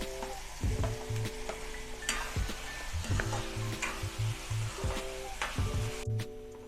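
Sweet corn, peas and mixed vegetables fry in oil in a pan for Italian pasta, making a soft steady sizzle punctuated by repeated low knocks and scrapes of stirring, fairly quiet with no speech.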